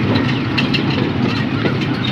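A passenger train running on rails, with steady rolling rumble and rhythmic clickety-clack of wheels over joints, loud and close, no talking.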